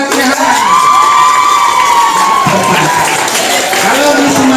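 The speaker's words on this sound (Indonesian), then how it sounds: "Oke, tepuk tangan buat ya." Students on a visit to a senior high school shout and cheer loudly with clapping, a continuous excited crowd din with raised young voices carrying over it.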